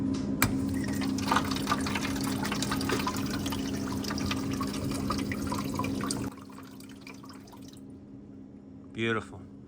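Water runs continuously into the ice maker of a Whirlpool refrigerator with a steady, fairly close trickling hiss and drips, then quiets after several seconds.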